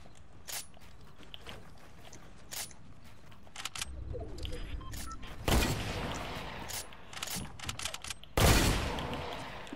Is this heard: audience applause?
no